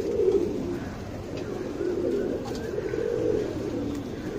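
A tournament pigeon being handled gives soft, low cooing in several throaty bursts, close and quiet over faint background noise.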